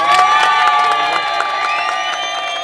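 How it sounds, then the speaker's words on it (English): A large crowd cheers and shouts steadily, with excited voices overlapping and a few whoops rising above the loud, sustained roar. "I want to give yourselves a round of applause."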